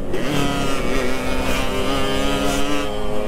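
A Yamaha RX King motorcycle with a mis-set carburetor revs hard on a straight road, its two-stroke engine whining loudly with rising and falling pitch in a continuous, close buzz, no talking.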